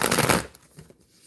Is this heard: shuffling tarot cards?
yes